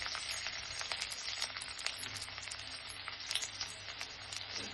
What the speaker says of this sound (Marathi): तेल गरम झालेलं आहे. त्यात थोडंसं ठेचून घेतलेलं आलं लसूण टाकतो.